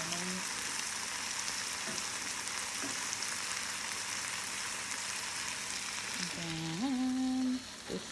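Chicken frying in a pan, a steady close hiss and crackle of sizzling oil running throughout, with a brief voice-like tone near the end.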